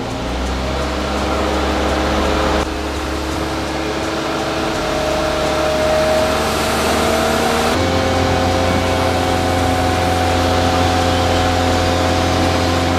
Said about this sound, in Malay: So kita akan ref enjin kereta pada kadar RPM